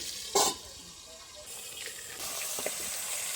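Oily pangas fish frying in hot oil in a home kitchen, a continuous hissing sizzle broken by a few sharp spattering pops, close by and moderately loud.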